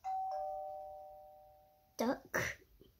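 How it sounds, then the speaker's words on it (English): A single ding-dong doorbell phone ringtone chime rings out and slowly decays, then two brief bursts of sound follow at the end. "Doorbell."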